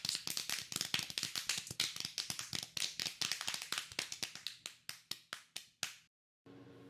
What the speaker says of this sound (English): Now everybody clap your hands.